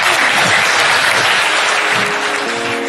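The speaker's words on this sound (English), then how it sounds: "Please give them a round of applause." Audience applause for the panelists at the close of a panel discussion at the Old Mutual Namibia Investment Summit 2023, loud, dense and steady throughout, with a faint tonal hum entering near the end.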